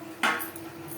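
A metal lid clinks down onto a pot of lote fish curry once, a single short clatter followed by a soft ringing hum in a quiet kitchen.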